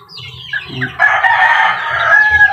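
Chicks being fed chopped malunggay leaves and egg at a backyard farm, while a nearby rooster gives a loud sustained crow over scattered clucks and chick cheeps.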